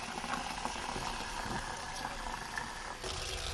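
Cold water pours steadily into a Vivax SJ 150 juicer to rinse out leftover pulp, a continuous close splashing rush lasting the whole moment with no talk.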